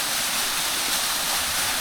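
A waterfall in Japan gives a steady, loud, broadband rush of falling water that stays even and continuous the whole time, with no voices over it.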